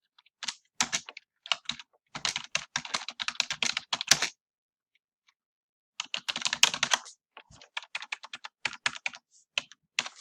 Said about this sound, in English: I've simply typed into the create box and I've submitted that